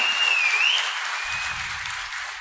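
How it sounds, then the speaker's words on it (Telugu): An audience applauds a senior journalist named chairman of the Andhra Pradesh Press Academy, a steady, dense wash of clapping that runs the whole moment and fades slightly toward the end, with a faint tone drifting above it. "గట్టిగా చప్పట్లు కూడా అందరూ అభినందించాల్సిందిగా కోరుతున్నాం"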